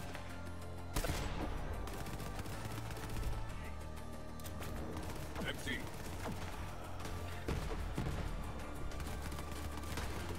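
Gunfire in the shooter video game Borderlands 3: rapid, loud bursts of shots, crackling and layered with sharp individual cracks, continuous across the scene.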